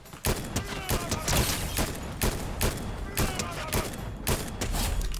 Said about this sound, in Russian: Это кто там стреляет?